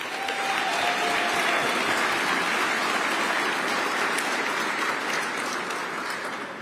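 A crowd at a Veterans Day breakfast reception applauds steadily, with dense, even clapping that holds for several seconds before easing slightly at the end.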